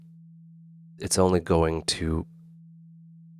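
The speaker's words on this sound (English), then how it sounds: "So right now it is a sine wave." A steady, low Reaktor synthesizer oscillator set to a sine wave hums as a pure tone throughout, while someone speaks a few words over it midway.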